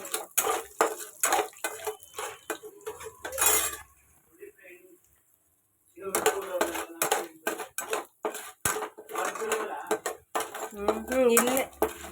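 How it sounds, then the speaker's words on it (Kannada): Tempering for poha upma is prepared in a pan: a busy run of utensil clinks, scraping and clattering cookware, close by, broken by a nearly silent stretch midway, with occasional talk. "ಈಗ ಅವಲಕ್ಕಿ ಉಪ್ಪಿಟ್ಟಿಗೆ ಒಗ್ಗರಣೆ ಹಾಕ್ಕೋಬೇಕು"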